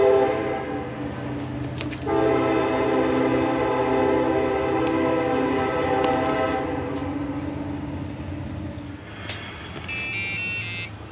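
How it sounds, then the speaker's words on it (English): A toy train horn from an RC car under test sounds loud and close, with sustained harmonic tones that hold steadily for several seconds, then fade near the end, followed by a short electronic chirp. "Train horn."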